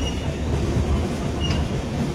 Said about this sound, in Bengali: ট্রেন কিন্তু স্পিডে চলছে